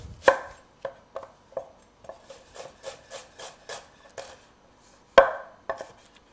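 A knife chopping ingredients on a chopping board for mussel marinière, sharp wooden thuds followed by a run of softer rhythmic cuts, then a final firm chop, close and clear with no talking.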